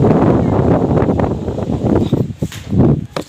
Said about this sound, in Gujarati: પવનનો અવાજ આવતો હશે તમને.